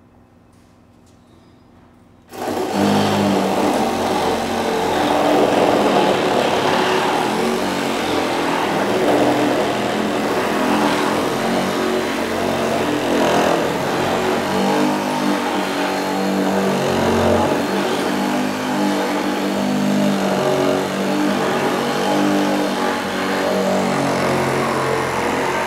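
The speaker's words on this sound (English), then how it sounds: "we'll be putting a rough wood blade into both machines and doing two rough cuts" SSE 18 LTX BL saw fitted with a rough wood blade, rough-cutting a pine beam; after a quiet start the motor kicks in at about two seconds and stays loud and close, a steady buzzing cut to the end.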